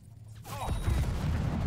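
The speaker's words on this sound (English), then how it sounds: "What an explosion." In Cyberpunk 2077, a sudden deep boom of a van exploding erupts after a quiet moment, followed by a rolling, rumbling aftermath that lingers.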